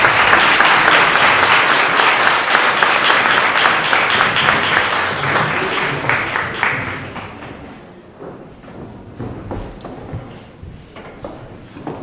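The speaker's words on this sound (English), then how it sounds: "please give a big, and when I say big, a big round of applause for Miss Nicole Newman" Loud, sustained applause from an audience greeting a speaker, dense clapping that gradually thins out into scattered claps.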